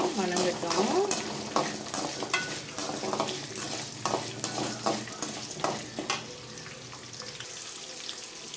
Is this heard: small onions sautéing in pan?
yes